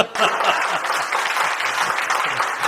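An audience claps steadily at a comedy performance, a continuous close wash of applause with a few faint voices murmuring underneath.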